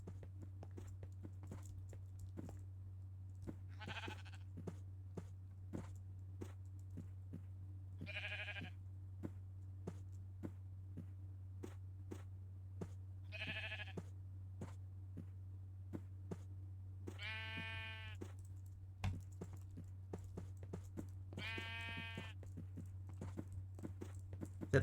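Sheep bleating in Minecraft, several short bleats spaced apart over a constant low hum and quick footstep-like clicks, with no talk.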